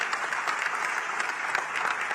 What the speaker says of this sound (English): I think we must give a round of applause for him.